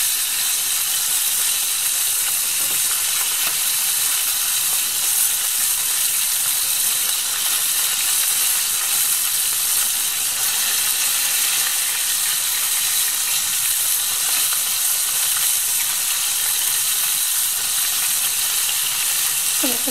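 Chicken pieces fry in a pan with a loud, continuous, even sizzle and crackle that lasts throughout at close range.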